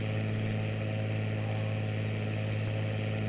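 A chartered light aircraft's engine drones steadily in flight on a route from North Island, San Diego, to Palm Springs, a loud, continuous hum with strong low tones and no voices.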